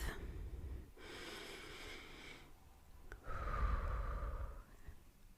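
A person takes a slow, deep breath: an airy inhale, a short pause, then a longer, fuller exhale close to the microphone, with no talk.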